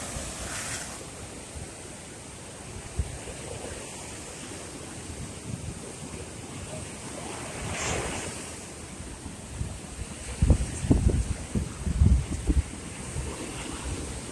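Surf washes ashore at Hastings Beach on the south coast of Barbados, a soft steady rush under wind noise, with a few louder breaking waves toward the end.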